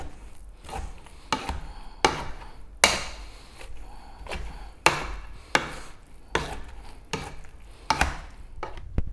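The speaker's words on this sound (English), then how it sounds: "we're going to just mash them up" Boiled sweet potatoes are mashed in a bowl with a potato masher, giving a series of dull, close thuds and soft squelching knocks at an irregular steady pace, with no talking.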